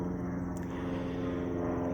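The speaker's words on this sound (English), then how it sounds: "Airplane." An airplane flying overhead, a steady low engine drone with a constant hum filling the short stretch, no voices.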